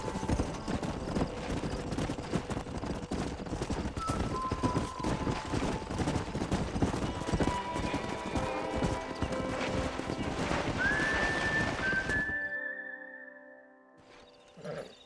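Horse hooves clip-clopping in the Red Dead Redemption video game, a steady rapid run of hoofbeats with background game sound, fading before a brief quiet end.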